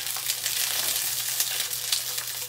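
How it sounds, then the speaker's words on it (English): Shishito peppers blister and sizzle in a hot pan, a steady, loud crackling hiss with scattered pops that runs unbroken from start to finish, with no talking. "I'm gonna add my peppers. That's a nice little sizzle."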